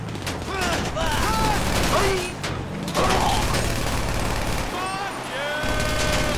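Gunfire in GTA V during a construction-site shootout, scattered shots and bursts mixed with game noise, while voices shout over the action.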